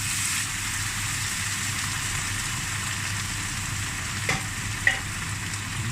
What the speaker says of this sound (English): I'm going to put my wine in.